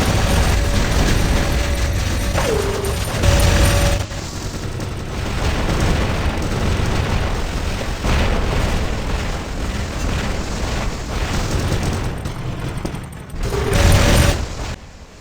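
Loud booms and bursts from battling robots in the game War Robots, several heavy blasts rolling together over dense mechanical noise, with a sharp loud hit near the end.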